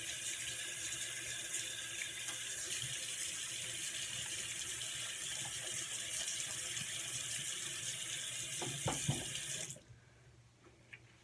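A bathroom tap runs steadily into a sink for face washing, a continuous close hiss and splash that cuts off abruptly near the end, leaving quiet room tone with a few faint knocks.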